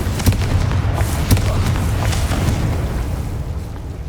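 Confringo blasting spell explosions in Hogwarts Legacy, a steady run of booming blasts and bursts layered with low rumble, loud and continuous throughout.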